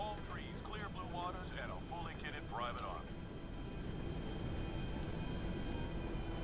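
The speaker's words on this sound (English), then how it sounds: "I wish we could buy this plane" Airplane engine in GTA droning steadily throughout, a constant broadband roar, with people talking over it in the first half.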